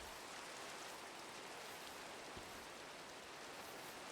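Steady, even rain falls in Minecraft, a constant soft hiss of drops filling the whole stretch with no talk over it.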